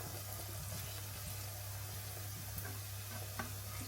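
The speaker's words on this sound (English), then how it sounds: "then you fry it like you see I am doing here" Plantain frying in a pan gives a soft, steady sizzle with a low hum beneath and occasional light spatula taps.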